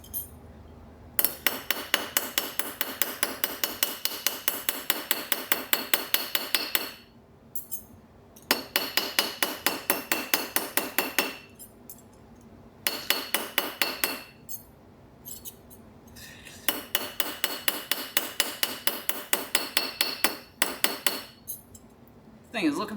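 A germanium silver bar is hammered square on a small anvil set on the floor, with rapid, evenly spaced metallic blows coming in four long bursts separated by short pauses.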